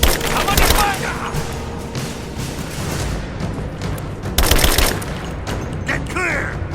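Gunfire in Rise of the Tomb Raider: loud, dense bursts of shots and crackling impacts, with heavy volleys near the start and again near the middle. Shouted game voices break in between the shots.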